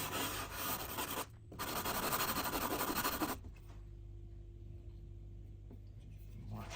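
Sandpaper rubbed over the sharp corners of a Quangsheng 5 1/2 bedrock bench plane, giving a loud, steady rasping scrub with a short pause, then stopping into a quiet room hum.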